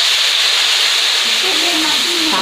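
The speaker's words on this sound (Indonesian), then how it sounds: "Ayo kita masukin bumbunya." Spices tipped into a hot frying pan while cooking a pumpkin vegetable dish give a steady, loud sizzling hiss throughout, with a faint tonal whine rising near the end.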